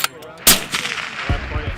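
Sniper rifle gunshots at long-range training with M2010 Enhanced Sniper Rifle, M110 SAS and M107 rifles, a loud sharp report followed by rolling echo and a few fainter thumps.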